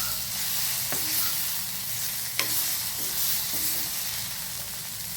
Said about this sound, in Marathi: वांग फ्राय झालेलं आहे